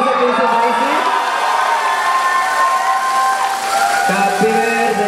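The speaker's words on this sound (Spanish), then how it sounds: "Fuerte el aplauso a Princess Daisy." A crowd cheers and applauds at the awards ceremony of the WCS Mexico 2018 gaming event. Loud, sustained whoops and raised voices ride over a dense wash of clapping throughout.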